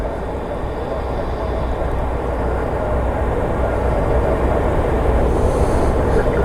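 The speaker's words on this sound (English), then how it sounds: "Looks like the Iceland Air 737 MAX is taxiing over to runway 30" A distant Icelandair Boeing 737 MAX taxiing toward runway 30 at Washington Dulles gives a steady, low broadband rumble that holds evenly throughout, with no voices.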